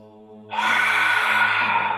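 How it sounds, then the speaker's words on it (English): A slow, deep breath during a guided relaxation session, heard as a long airy breath that rises suddenly and holds steady for over a second, close and clear over soft sustained background music tones. "And one more deep breath in."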